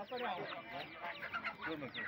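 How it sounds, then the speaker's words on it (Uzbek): Chickens cluck and squawk in a busy livestock market in Uzbekistan, a dense, close flock of overlapping calls that keeps going throughout, with possible voices mixed into the crowd noise. "Bu tovuqlar."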